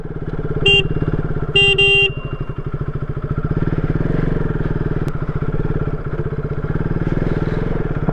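A motorcycle engine chugs with a steady, close pulsing beat on a snow-covered mountain road in Himachal Pradesh, and two short horn blasts sound near the start.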